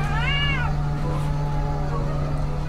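A creepy, drawn-out cat meow rising and falling at the start, loud and close over a steady electrical hum, followed by quieter background noise.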